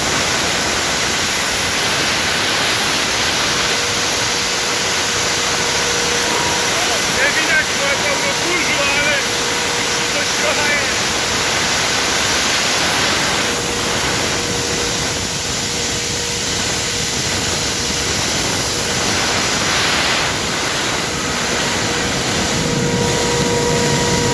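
A grain blower runs at its first start of the 2023 season, a loud, steady rushing roar of air that holds evenly without a break.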